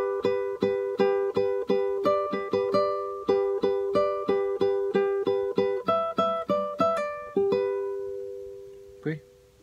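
A phrase from a Peruvian waltz played on guitar: a steady stream of crisp plucked notes in waltz rhythm, bright and close, ending on a sustained note with a faint extra sound near the end.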